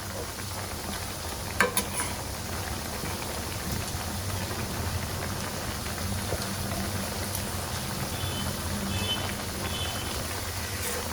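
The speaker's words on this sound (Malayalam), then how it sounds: "ഇത് നന്നായിട്ട് ഇതൊന്ന് മിക്സ് ചെയ്തെടുക്കാം." Ground coconut paste being stirred into cooked avial vegetables, with jackfruit seeds, drumsticks and dried prawns, giving a steady close scraping and mixing texture throughout, with one sharp clink early on and no talking.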